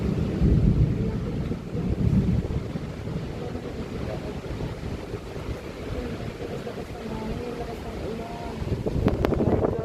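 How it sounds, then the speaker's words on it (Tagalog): Strong wind in Hong Kong roars and buffets the microphone in heavy, rumbling gusts, with faint talking underneath and occasional clicks near the end. "Grabe guys, ang lakas ng hangin dito."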